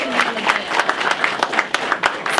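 A crowd at a community mixer bursts into a short round of applause, with brisk, close clapping and individual claps standing out through the burst.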